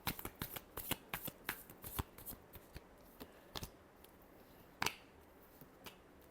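Tarot cards being shuffled by hand, giving quiet, quick riffling snaps in irregular bursts and one louder flutter near the end.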